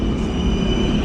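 A loud, steady rumble of a light rail (LRT) train running close by, with a sustained metallic whine of wheels on track and no talking.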